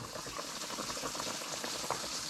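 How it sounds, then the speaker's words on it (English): Chicken simmers in a pot of boiling water on a home stove for enchiladas, a steady bubbling and gurgling with dense popping at close range, continuous and unaccompanied by talk. "Chicken's boiling, folks."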